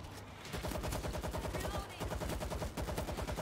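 Dense automatic gunfire from the World War Z video game during the Tokyo campaign, a loud continuous rattle of rapid shots with a brief lull near the start, heard up close and alone.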